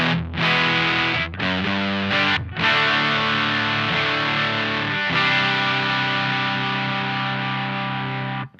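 Heavily overdriven electric guitar through a Mad Professor Simble Overdrive pedal with the gain cranked rings out in thick sustained chords, loud and saturated, with a couple of brief breaks between strums.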